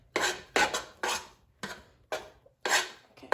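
Rice Krispy treat mixture is stirred in a bowl, giving repeated scraping strokes that rasp and clink against the bowl at a steady rhythm, about seven strokes, close and with no talk.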